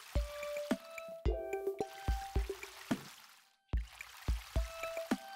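Plants being watered in the farming game Ooblets: a run of bright plopping drips and squishy splashes in short bursts, each with a ringing tonal chime, pausing briefly before resuming.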